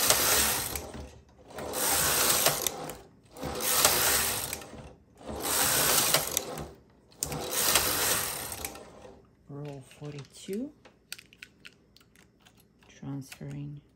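A domestic knitting machine's carriage sweeps across rows of chunky yarn in four loud, even rasping passes. Lighter mechanical clicks and needle handling follow, with a little talk toward the end.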